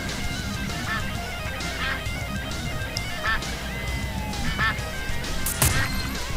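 Ducks quacking in the Duck Dynasty hunting game, several short nasal quacks scattered at irregular intervals over a busy game soundtrack, moderately close.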